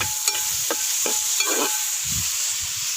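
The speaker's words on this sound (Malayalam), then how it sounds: "അപ്പോൾ നമ്മുടെ സവാള പെട്ടെന്നൊന്ന് വഴണ്ടിയിട്ടാൽ നമുക്ക് കുറച്ച് ഉപ്പിട്ട് കൊടുക്കാം" Chopped onions and tomato sautéing in a pan, a soft continuous sizzle broken by several quick scraping stirs, close and fairly quiet with no voices.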